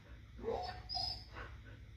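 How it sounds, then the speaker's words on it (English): A dog whines in short, high-pitched bursts, three or so soft whimpers close by in a quiet room. "try to ignore my dog who's whining"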